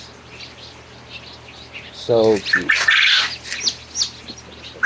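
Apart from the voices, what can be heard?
barnyard mix baby chicks chirping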